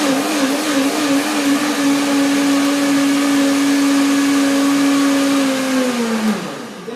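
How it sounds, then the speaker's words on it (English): A blender blending tangerines and cashew nuts whirs loudly and steadily at one pitch for several seconds, then winds down near the end. "it may take some time to blend the cashew nuts because they will be up in the blender"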